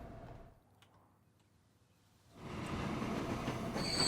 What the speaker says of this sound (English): get the train moving